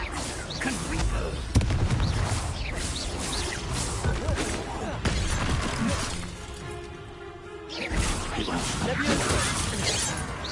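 A Confringo fire spell in Hogwarts Legacy sets off a loud, crackling blast with a sharp crack, amid dense combat noise and a full game soundtrack that briefly drops away before surging back.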